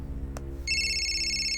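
A mobile phone starts ringing partway through, a bright electronic ringtone that sounds continuously and fairly loud after a brief click, over a low steady background hum.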